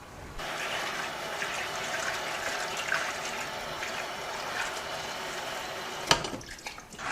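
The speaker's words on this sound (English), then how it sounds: "So I just kind of move it around in the water." Pea seeds for microgreens swirled by hand in a container of soaking water, a steady soft sloshing and trickling close by, with a brief knock near the end and no speech.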